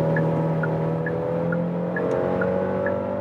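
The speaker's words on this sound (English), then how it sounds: "So let's now accelerate from 90 kilometers an hour to what?" Steady engine drone with a rising whine fills the cabin of a Genesis GV70 SUV accelerating from 90 to 120 km/h, continuous and even with faint periodic ticks.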